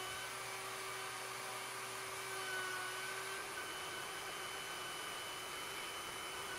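A Compass CNC router spindle cutting a wooden cutting board gives off a steady high-pitched whine over broadband hiss, its tone dropping partway through as the spindle speed is lowered.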